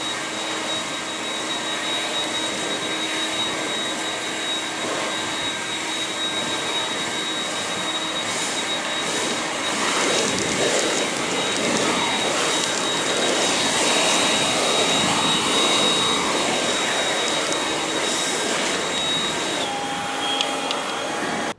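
A leaf blower clears debris off a weedy home lawn, giving a loud, continuous roaring whine that holds steady for over twenty seconds with slight surges and no talking.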